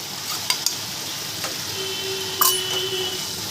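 Egg stir-fried in masala for a masoor dal egg tadka gives a soft, steady sizzle with a few light utensil taps and one brief clink partway through.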